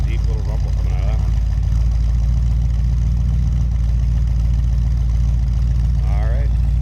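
A 1962 Ford Thunderbird Landau's 390 engine idles with a steady, deep, low rumble close by, while a person talks briefly over it at the start and near the end.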